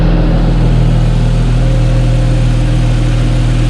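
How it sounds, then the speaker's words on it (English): A freshly started Infiniti G37 engine idles steadily during an automatic transmission fluid change, a loud, constant low hum and drone from close by with no speech. "now the vehicle is started"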